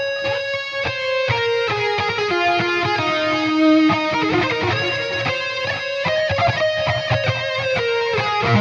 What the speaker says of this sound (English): This is my full-blown lead tone,